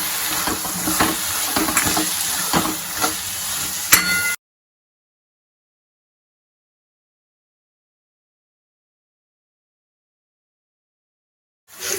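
Tandalja (amaranth leaf) bhaji being stirred as it fries in a pan, sizzling and scraping steadily for about four seconds, then cutting to silence until a brief return of frying at the very end.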